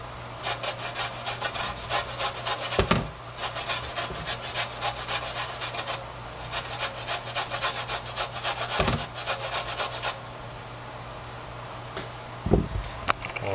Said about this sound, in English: I have a grater here